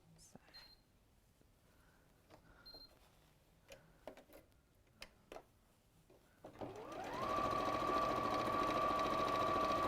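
A domestic sewing machine stitches a quarter-inch seam on jelly roll quilt strips, starting after several faint clicks and handling noises and then running as a steady, close, loud whir to the end.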